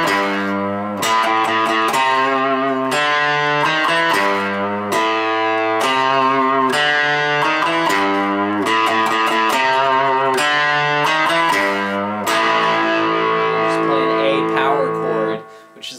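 An electric guitar plays a riff with a distorted rock tone, heard as loud, sustained, repeating chord-like phrases over sixteen seconds with no talking, ending on a ringing note that fades out.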